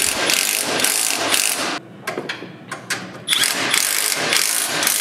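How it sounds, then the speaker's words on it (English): A hand ratchet tightens the swaybar and frame support bolts on a Polaris RZR Pro XP, with rapid clicking bursts up close broken by short pauses between pulls. "With both bolts installed, you can now begin tightening down these hardware."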